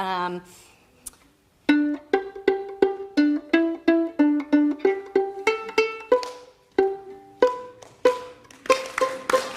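A violin is plucked note by note in a steady rhythm, short bright pizzicato tones that ring briefly and fade, with a few brief pauses between phrases.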